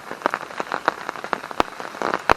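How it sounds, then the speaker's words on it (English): Heavy rain pelts a wild campsite, dense irregular drops striking a surface close by, with sharper louder splats scattered through the steady patter, no voices. "I knew the big rain was coming"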